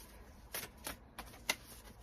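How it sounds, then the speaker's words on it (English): Several quick bursts of riffling brand-new tarot cards, a few distinct shuffles spaced out over a couple of seconds, close and fairly quiet. "I'm just going to give it a quick shuffle."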